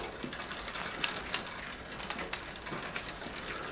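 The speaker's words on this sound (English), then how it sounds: "All right, I'm turning my shifter." A Shimano shifter on a Schwinn bike is turned, giving a few faint ratcheting clicks over a steady background hiss, with no speech.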